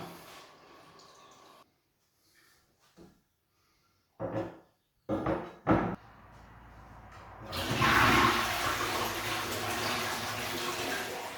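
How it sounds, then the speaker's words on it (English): A newly fitted toilet flushes with a loud rushing gush of water that swells and keeps running steadily, after a few short knocks and clunks. "the first time a toilet has flushed on this floor in this house"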